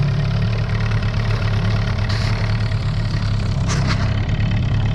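A new two-stroke Sharmax outboard boat motor runs during break-in, holding a steady, loud, close drone with brief higher whines partway through.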